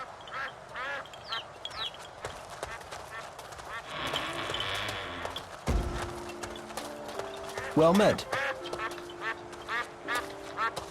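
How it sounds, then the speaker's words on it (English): Ducks quack in the fantasy video game Two Worlds, a series of short nasal calls over clip-clopping hooves and ambient game sounds, with a character voice speaking briefly. "Quack, quack, quack, quack."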